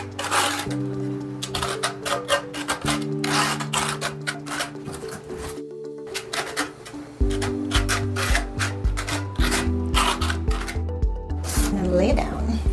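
Floor tile pressed into mortar and slid back and forth to collapse the trowel grooves, giving repeated close scraping rubs in a steady rhythm over a low, droning musical background.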